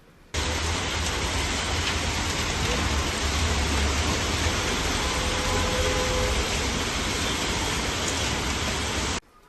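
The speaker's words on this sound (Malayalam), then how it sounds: "ഉച്ചയ്ക്ക് ശേഷം 3 മണിയോടെ മഴ ആരംഭിച്ചത് ഇങ്ങനെ" Heavy afternoon rain mixed with hailstones, pouring down as a loud, steady, dense roar that runs unbroken for the whole stretch and cuts off sharply at the end.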